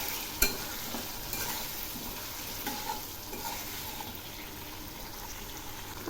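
Chili powder and coriander powder frying in a pan with fish-curry spices, a soft continuous sizzle with a sharp utensil clack near the start and light scraping as the mixture is stirred.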